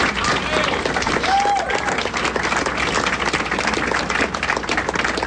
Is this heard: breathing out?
no